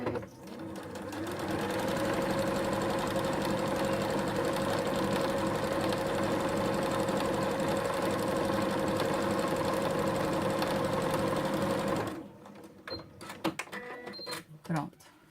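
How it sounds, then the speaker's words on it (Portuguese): A sewing machine stitches the sides of a fabric necessaire in one long steady run of about ten seconds, loud and close. The motor whirs evenly, then stops, and handling noises follow. "esse aqui eu vou passar uma costura aqui na máquina agora rapidinho com vocês"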